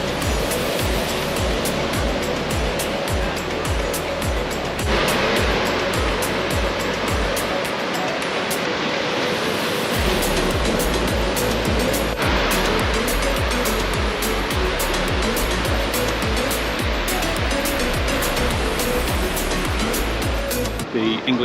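Sea waves roll onto the beach at Whitby on a cold, grey, damp summer day, a loud continuous wash of surf with rumbling undertones throughout.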